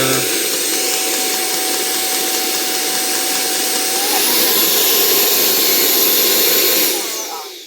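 Electrolux cordless vacuum powerbrush motor spinning in standard mode, a steady loud broadband whir with a thin whine that shifts pitch midway, then cuts off and winds down near the end.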